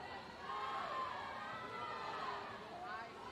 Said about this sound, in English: Their teammates cheering them on respectively at the end of the pool